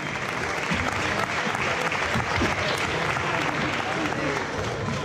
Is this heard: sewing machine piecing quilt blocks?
no